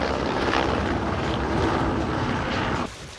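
Helicopter flying over the Kalalau Trail on Kauai, Hawaii, heard as a steady, broad rotor-and-engine roar that holds for about three seconds and then abruptly drops away.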